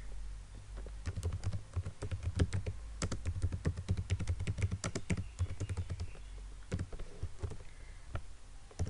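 Fingers tapping on a computer keyboard, a quiet, close run of uneven clicks and key presses continuing steadily with short pauses, no voices.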